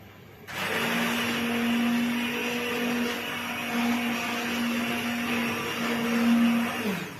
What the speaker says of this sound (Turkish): mercimek çorbasını pişirdikten sonra blenderdan geçiriyoruz